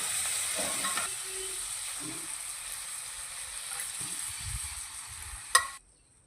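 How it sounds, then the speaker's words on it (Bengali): Boiled chickpea dal added to frying spices and stirred, a continuous soft sizzle and hiss under a few low knocks and scrapes, ending in a sharp clatter before sudden quiet. "এবার এই সেদ্ধ করা ডালটা দিয়ে দেবো মশলার মধ্যে"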